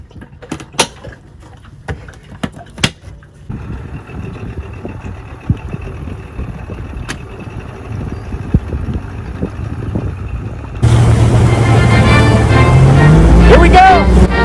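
A steady outboard motor drone with clicks and talk early on, then a louder, broad engine roar with splashing water as the boat gets underway after a fuel filter replacement.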